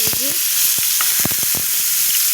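Cleaned prawns coated in salt and turmeric fry in a pan over low heat with a loud, dense, steady sizzle, punctuated by a few short clicks and pops up close, and no speech.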